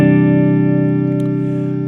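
A single sustained guitar chord, D over C, rings out, thick and slightly distorted with a shimmering effect, slightly dissonant and tense, fading slowly, loud and close.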